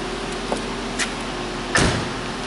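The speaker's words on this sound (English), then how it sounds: "I'll pop the hood for you" Hood release on a 2006 Jaguar XJ8 Vanden Plas with a 4.2 liter V8: a few soft clicks, then a single louder mechanical pop and thunk as the latch lets go, close and alone over a quiet background.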